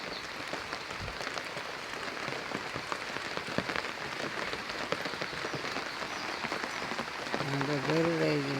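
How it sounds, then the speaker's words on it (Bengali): A steady downpour drums on surfaces in a Bangladeshi village, a dense continuous patter heard alone until a voice starts calling out near the end over the rain. "দিন কিরম বৃষ্টি নামছে।"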